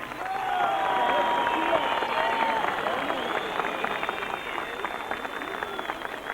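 An audience at an outdoor folk concert applauds a singer, a dense, sustained wash of clapping and crowd noise that stays steady and fairly close throughout.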